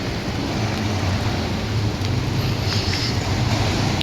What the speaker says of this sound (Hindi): बारिश हो रही है इसलिए वीडियो ऐसी हो गई है